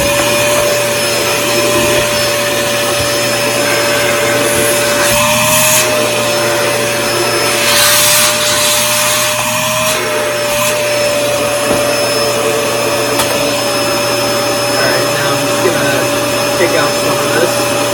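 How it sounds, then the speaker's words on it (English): A Dyson Ball Animal 2 upright vacuum cleaner runs steadily and loudly throughout, its motor whine constant with brief surges as it sucks up debris. "So actually, while I'm here, I'll get the vacuum."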